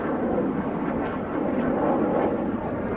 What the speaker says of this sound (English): Headphone warning. Another loud jet.